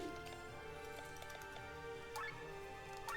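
Water Strike, a water attack in the Chained Echoes video game, gives off quiet dripping, splashing ticks scattered over soft, sustained game music, all faint.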